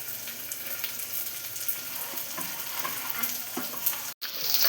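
Washed sprouted grains hit hot tempering oil and sizzle steadily, with crackling pops and a few stirring scrapes close by, ending in a brief cut.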